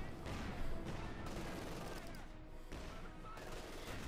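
Dense, continuous rattling gunfire and distant blasts from a World War II battle in the strategy game Company of Heroes 2, sustained throughout at moderate volume.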